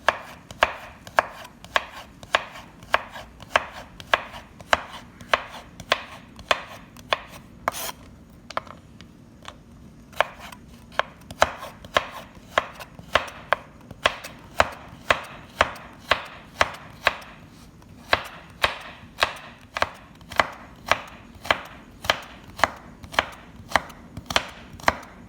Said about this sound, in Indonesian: Ini wortelnya diiris kecil-kecil juga.